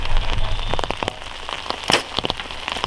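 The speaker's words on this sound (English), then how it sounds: "rain, just pouring" Heavy, pouring rain on an island 3-D archery course in April, a dense steady hiss with scattered close drop impacts and crackles, no voices.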